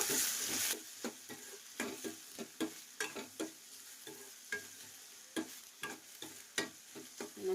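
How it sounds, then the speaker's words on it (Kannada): Onion frying in a pan for palak paneer, a soft steady sizzle broken by repeated scraping and stirring strokes from a spoon, fairly quiet and close. "ಇನ್ನೊಂಚೂರು ಫ್ರೈ ಆಗಲಿ ಉಳ್ಳಾಗಡ್ಡಿ"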